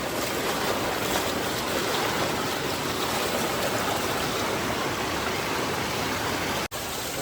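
Heavy floodwater rushes across a road at Girnar after intense rain, a loud, steady broadband roar that runs continuously with a brief dropout near the end.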